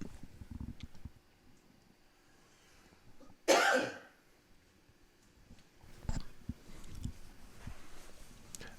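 A player at a Dragon Ball Super Fusion World card tournament coughs once near the microphone, a brief harsh burst standing out against quiet background murmur and small table noises.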